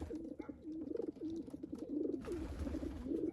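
Jansen de Klak breeding pigeons cooing steadily and close by, a continuous rolling coo from several birds with no other sounds.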